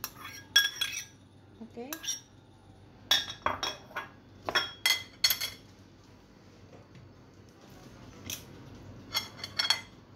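A knife chops garlic on a board in sharp, scattered clicks and taps of varying loudness, close by in a quiet kitchen, with a single brief spoken word.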